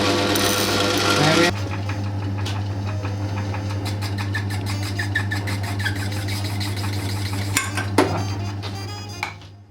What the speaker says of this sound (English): This machine removed the thread from the domestic pipe fitting so that it could be glued.